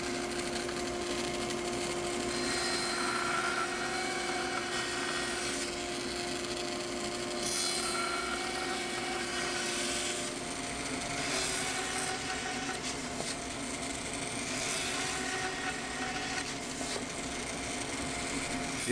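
Power saw cutting pattern plywood into tiles, a steady whining buzz with periodic swells as the blade bites, continuous and fairly close in a workshop.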